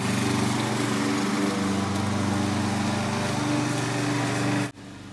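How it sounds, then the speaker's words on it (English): A lawn mower runs close by, its steady engine drone loud and continuous for several seconds before cutting off abruptly near the end. "Mother, do your mowing elsewhere."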